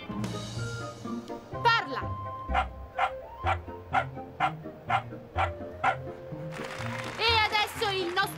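A small cartoon dog yips in a steady run of about ten short, sharp barks, with cartoon music and an Italian-speaking voice around them.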